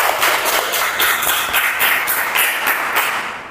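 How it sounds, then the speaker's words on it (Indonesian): A small group claps together in a brisk, continuous burst of applause, fairly close, tapering off at the end. "Tepuk tangan untuk kita semua ya."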